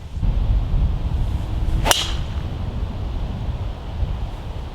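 A Mizuno driver swings outdoors in wind, one sharp whoosh and crisp impact on the ball, standing out loud against steady wind rumble.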